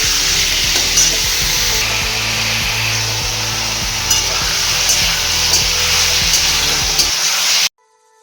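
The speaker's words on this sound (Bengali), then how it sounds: "আলুটা একটু ভেজে নেব" Meat and potatoes fry in a pan with a loud, continuous hissing sizzle and rhythmic scraping strokes roughly once a second, until it cuts off abruptly near the end.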